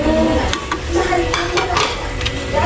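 Garlic and onions sizzle in a frying pan, a steady loud hiss with a few clinks of a utensil stirring against the pan.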